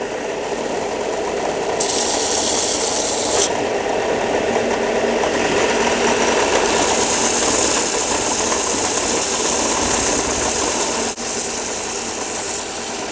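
Belt sander shaping a wooden garfish swimbait lure, a steady continuous motor whir and abrasive grind held throughout, with a brighter, harsher stretch of sanding early on and again later, close and loud.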